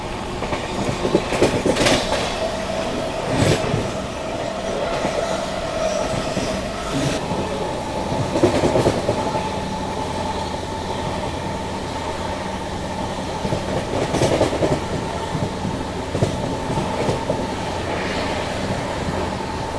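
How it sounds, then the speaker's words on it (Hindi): The Ananya Express from Udaipur to Kolkata runs steadily on its rails, with continuous rumble, rhythmic clickety-clack from the wheels and occasional metallic squeals and clanks from the carriage. "तो वापस से ट्रेन ने रफ्तार पकड़ ली है"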